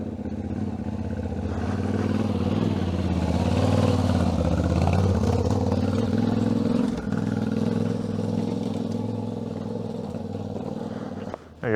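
Yamaha Tenere motorcycle climbing a dirt trail, its engine droning and labouring steadily throughout with shifting revs and some clatter, close and loud, with faint voices under it.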